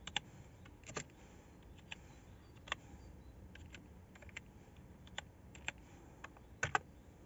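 Keys on a computer keyboard are tapped as a password is typed on an old computer running Linux, scattered clicks in quiet, uneven bursts with short pauses between them.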